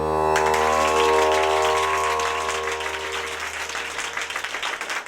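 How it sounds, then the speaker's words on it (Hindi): Applause from an audience at a Ramlila stage performance, a dense wash of clapping that starts abruptly over a sustained musical tone and continues steadily, thinning slightly toward the end. "तालियां।"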